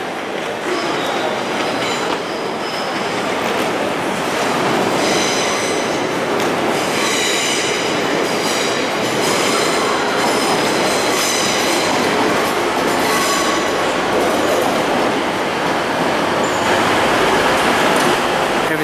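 A train arrives at a station platform in York, rolling loudly along the rails with steady rumbling and metallic wheel squeals, a continuous close roar with no voices.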